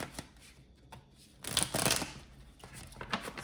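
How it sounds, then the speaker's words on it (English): Tarot cards are shuffled close by in a few quick papery riffles and flutters, a louder burst in the middle, with no talking. "Let's get some tarot cards."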